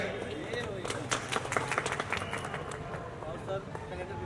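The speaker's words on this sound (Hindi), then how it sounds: "अपने प्रांगण में आए अतिथि का जोरदार तालियों के साथ स्वागत किया जाए।" An audience at a Mumbai journalists' association gathering claps to welcome a guest, a moderate patter of applause indoors while a speaker keeps talking over it.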